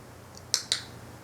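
A dog training clicker snaps twice in quick succession, sharp and close, two crisp clicks over a quiet background.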